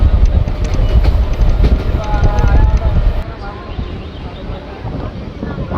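A Bardhaman–Katwa local train rumbles steadily along the tracks, taking a curve, with a loud low roar, faint rhythmic clatter and wind buffeting the microphone.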